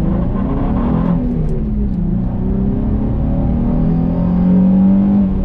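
A Nissan 350Z's naturally aspirated engine revs loudly and close, the pitch rising and falling through the rev range in a steady, unbroken drone with no one talking.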